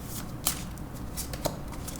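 A tarot deck is shuffled and a card drawn: soft papery riffling and sliding, with two crisp card snaps standing out, close and quiet, without speech.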